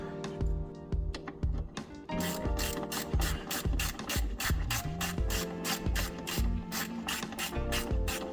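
A ratchet wrench clicks steadily as a part is screwed in on a car bulkhead during a paint shop restoration, with fast repeated ratcheting strokes close up and fairly loud throughout, no talking.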